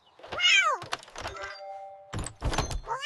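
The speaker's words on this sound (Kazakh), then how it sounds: "Мысық" A cartoon cat meows loudly up close, then gives a couple of shorter cries, with a soft thump partway through and a brief lull between calls.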